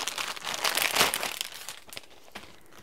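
Plastic packaging around reusable zipper seal bags crinkles and crackles in quick bursts as it is handled, close and loudest early on, then fading to scattered rustles.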